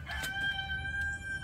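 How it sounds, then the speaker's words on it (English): A rooster crows in the distance, a single drawn-out cock-a-doodle-doo, tonal and moderately faint over a low outdoor rumble. "rooster's awake"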